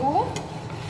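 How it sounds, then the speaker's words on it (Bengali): Short scrape and clatter of a utensil stirring food with spices in a sizzling pan, close and fairly loud, over a low steady fry. "মশলার সাথে ভালোভাবে নেড়ে চেড়ে ঢেকে রাখবো"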